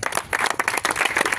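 A crowd at a sea spinning fishing trophy award ceremony claps together, a short, loud patter of many hands lasting just over a second, with no voices heard.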